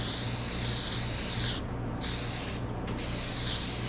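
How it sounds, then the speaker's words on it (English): Bronze-tone aerosol spray paint hisses steadily in bursts onto metal gears, pausing briefly twice before resuming, close and fairly loud over a low background hum. "Now I'm going to use some kind of a bronze tone spray and just dust all of these gears"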